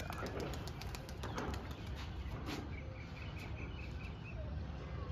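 A flock of pigeons flies over a village rooftop, with scattered bursts of wing flapping over a continuous outdoor hiss and a few faint bird calls, moderately distant.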